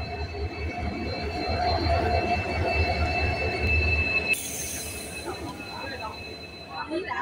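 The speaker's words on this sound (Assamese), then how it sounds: "ট্ৰেইনটো আহি পাইছে।" A train rolls into a busy station during the Ambubachi Mela at Kamakhya, with a continuous heavy rumble, squealing wheels and a sharp high whine, while people talk nearby.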